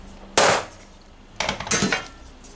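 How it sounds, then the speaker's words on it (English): Two hammer knocks on a metal armour piece for a medieval rerebrace, a single sharp ringing strike followed about a second later by a cluster of quicker, brighter blows, close and loud with quiet between. "and then just give it a knock with a hammer"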